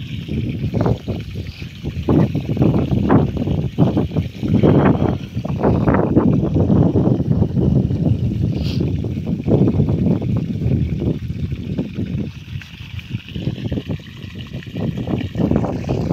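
Water gushes steadily from a pipe onto kesar mango trees on a farm, a continuous, fairly loud splashing and trickling rush that lasts throughout with no talking.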